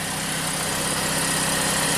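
A Chevrolet Sonic's engine idles steadily with a low, even rumble and faint mechanical ticking, no voices present; it has a leaking exhaust gasket.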